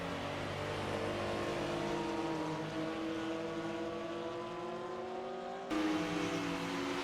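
Engines of 1956 Formula One race cars, including a BRM, droning steadily at a distance with rising and falling pitch as they hold speed and overtake, faint, with a brief jump in loudness near the end.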